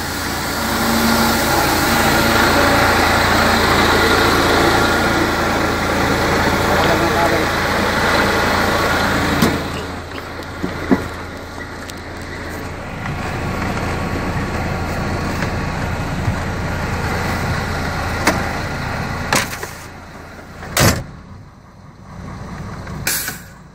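A dump truck tips its bed with a hydraulic piston to unload sand, giving a steady loud engine rumble that eases after the first ten seconds, with a few sharp hiss or clank bursts near the end and someone talking over it.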